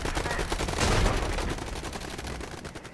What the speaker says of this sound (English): the Shulker there getting melted by the machine guns on those vehicles